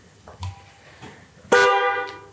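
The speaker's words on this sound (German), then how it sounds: "Hupe? Geht auch." An Austin Healey V8 car horn sounds once, a loud, close honk lasting about half a second, after a few soft clicks and knocks inside the car.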